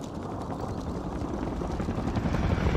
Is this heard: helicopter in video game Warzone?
yes